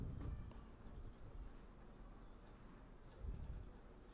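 Soft clicks from a computer keyboard come in quick, irregular bursts of keystrokes, faint and close against a quiet room, with slightly louder clusters at the start and near the end.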